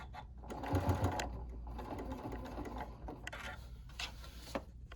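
A sewing machine stitches a fabric tote bag in short bursts of rapid mechanical whirring and clatter, pausing between runs with soft clicks, close and moderately quiet.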